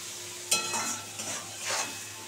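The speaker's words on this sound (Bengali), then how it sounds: "পেঁয়াজটা মোটামুটি ভাজা হয়ে গেছে" Onion frying in oil in a pan for a wedding-style fish-head and cabbage dish, a soft steady sizzle broken by a few stirring scrapes, close and fairly quiet, with no voices.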